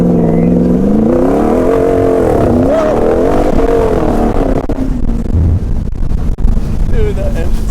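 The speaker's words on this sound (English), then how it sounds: "Dude, that engine's so nasty." Hemi V8 engine of a Jeep on Oregon trails revving with rising and falling pitch, loud and close, under heavy wind buffeting, easing into a lower rumble toward the end.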